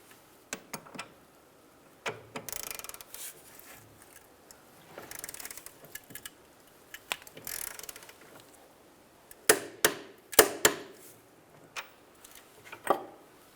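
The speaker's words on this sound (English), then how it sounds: "we can then torque down our front and rear bolts" Ratchet wrench ticking on the front and rear control arm bolts of a Honda Element, bursts of quick close clicks separated by pauses and faint shop noise.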